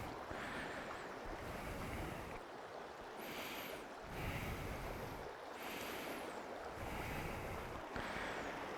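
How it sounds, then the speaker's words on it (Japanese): Steady rushing water in a canal under a bridge in the Forza racing game, continuous broadband flow heard up close with periodic swells, no speech. "あ、水の音が聞こえる。"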